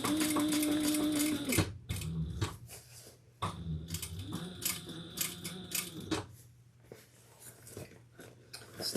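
A sewing machine stitches a sling pack, running in a fast whirring burst, then stopping and restarting in shorter uneven runs with handling clatter and clicks between, close by and without talk.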